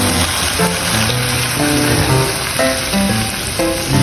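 Squid frying loudly in a pan for adobo, dense close sizzle and crackle with bursts of popping as the pieces settle, continuous and prominent, no talk.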